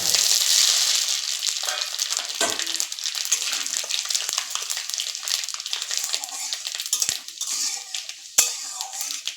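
Dried red chilli and panch phoron crackle and sizzle in hot oil in a pan, a steady close frying hiss broken by a few sharp clinks of a spoon against the vessel.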